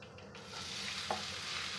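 Chopped onions with ajwain seeds fry in a pan: a quiet sizzle swells in after a brief lull, with a faint clink of stirring partway through and no voices.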